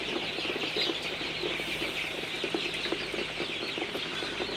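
Many Sonali hybrid chicks cluck and chirp at once in a noisy flock at night, a continuous busy chatter with no voices.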